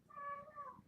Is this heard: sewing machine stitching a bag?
no